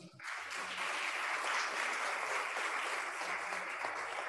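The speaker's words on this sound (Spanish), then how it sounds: "Un aplauso." Applause at a university graduation ceremony rising quickly after a brief voice and holding as a dense, steady clapping from a large audience for several seconds.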